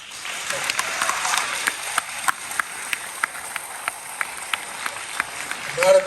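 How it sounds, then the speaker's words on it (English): Sparse clapping from a meeting audience, a thin run of separate claps of moderate loudness that is not a full ovation. "Not a big fan of clapping, because it slows us down"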